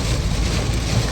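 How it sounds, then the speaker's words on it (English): Rain falls steadily as an even, close, hissing wash of noise that lasts the whole short moment. "it's raining"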